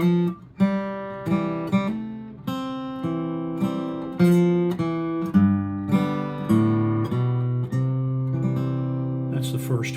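A solo acoustic guitar plays the opening phrase of Wildwood Flower, picked melody notes with hammer-ons and strummed chords, close and clear at a moderate pace.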